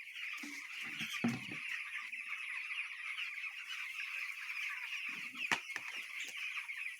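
Chickens cluck steadily as they are fed and watered, a continuous layered chorus of hen calls at moderate distance with a few louder close clucks, and no speech.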